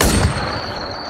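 Gunfire in the online zombie survival game War Z, a single burst at the start that quickly fades into lingering reverberant noise, loud and alone without speech.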